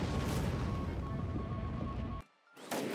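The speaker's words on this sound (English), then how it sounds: "Nuke." A nuclear weapon explodes in the Civilization VI strategy game with a loud, sustained roaring blast and rumble that cuts off abruptly, followed by a short silence and then a renewed burst of noise.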